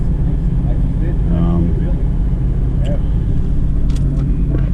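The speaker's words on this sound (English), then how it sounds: "full throttle, 4-wheel drive, tow haul on" A truck engine runs at full throttle in four-wheel drive with tow/haul mode on, a loud steady roar filling the whole stretch while a voice talks over it.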